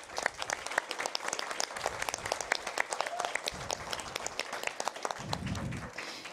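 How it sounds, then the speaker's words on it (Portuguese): Applause from an audience at a public hearing on violence against women, honouring members of the women's council: dense, lively clapping from many hands, fairly close, continuing steadily for several seconds. "eu queria uma salva de palmas para elas"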